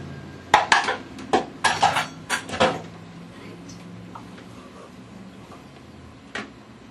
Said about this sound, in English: I'll remove it from the food processor.